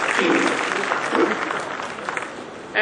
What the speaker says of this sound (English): So, applause for, for the whole PIB.